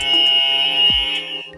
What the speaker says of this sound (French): Préparez-vous à buzzer pour la prochaine question.